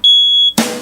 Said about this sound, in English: you're not supposed to use a smoke detector when you're done cooking the eggs